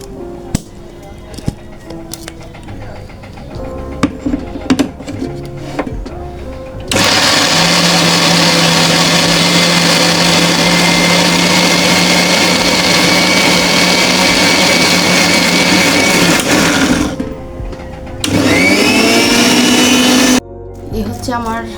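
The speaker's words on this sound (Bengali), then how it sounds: "4টা বড় বড় পেঁয়াজ কুচা করে নিয়েছি। এখন এটাকে ব্লেন্ড করে নেব।" Four large chopped onions are whirred in an electric blender in a loud, steady grinding roar lasting about ten seconds, followed by a shorter second burst. A voice talks over quieter kitchen sounds beforehand.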